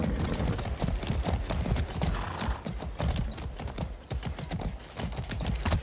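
Horse hooves clip-clop in the video game Far Cry 6, a steady, fast rhythmic trotting of hoofbeats up close with a few faint whinnies, continuous throughout with no talking.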